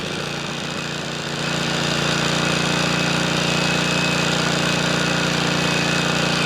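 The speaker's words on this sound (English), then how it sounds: "Let it run on choke just for a second." A small engine on outdoor power equipment, started after winter storage, runs steadily off choke with a constant buzzing drone that grows louder after a moment and stays close and even.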